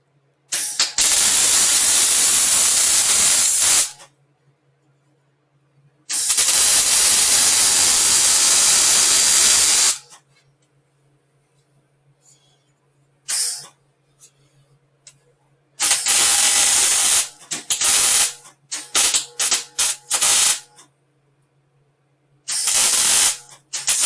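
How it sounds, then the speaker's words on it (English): Welding floor braces on a 1950 Ford F1 truck: loud, steady crackling arc bursts of several seconds each, separated by silences, then choppier short tacks toward the end, close up, with no talk. "Weld it."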